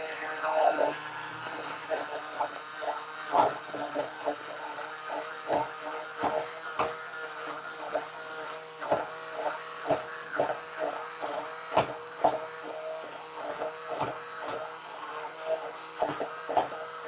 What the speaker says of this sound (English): Hopefully this blender does not overload that outlet.